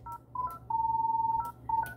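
Keypad dialing tones on a Vertical 1050i office phone: a quick series of short electronic beeps, one held longer, pressed in an uneven rhythm, close and clear with no talking.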